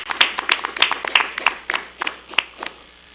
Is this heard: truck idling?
no